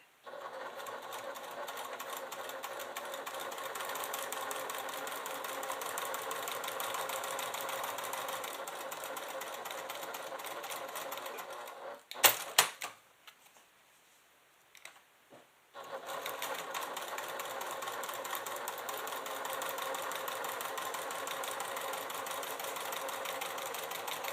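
A sewing machine stitches a quilted leather clutch with a steady, close mechanical whir, stopping briefly midway with a couple of clicks and a short silence before running continuously again.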